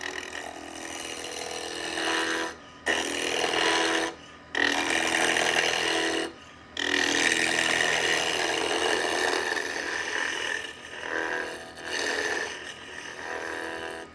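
A wooden spatula turning on a lathe as a skew chisel cuts it, a loud continuous scraping, rasping whir broken by a few short pauses where the tool lifts off.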